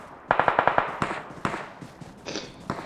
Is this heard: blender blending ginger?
no